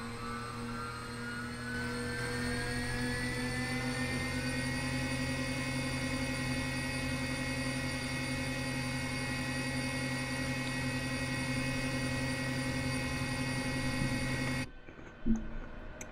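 A HondaJet's jet engine spins up in Microsoft Flight Simulator 2020, a steady whine that rises in pitch over the first few seconds and then holds as an even, loud hum before cutting off abruptly near the end.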